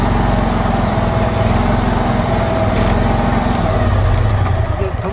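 A Vanguard engine, fitted with an oil-pressure sensor and warning light on a pressure washer, runs steadily and loudly with a dense, even mechanical drone throughout.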